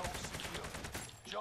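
Rapid automatic gunfire in the video game Warzone rattles in dense bursts, loud and close, filling the short moment without a pause.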